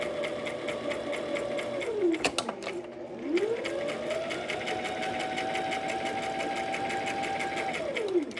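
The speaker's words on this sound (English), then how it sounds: "We want to maybe have about a 1/4 inch seam allowance on your right side as you sew." A sewing machine stitches fabric for a scrunchie, running in a steady rapid whir that pauses briefly midway and then resumes for several seconds, with no talking.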